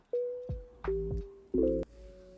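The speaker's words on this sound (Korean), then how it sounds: "낯선 전화번호 수신음에 휴대폰을 들었다." Mobile phone ringing for an incoming call from an unknown number, three short bursts of electronic tones with a sustained steady pitch between them, fairly close and clear, no talking.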